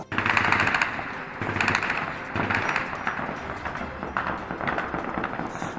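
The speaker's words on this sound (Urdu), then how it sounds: "طالبان نے فائرنگ کے ذریعے اپنی خوشی کا اظہار کیا" Sustained celebratory machine-gun fire at Kabul airport after the US withdrawal from Afghanistan, with dense overlapping bursts of automatic gunfire rattling continuously and loudly throughout, with no talk.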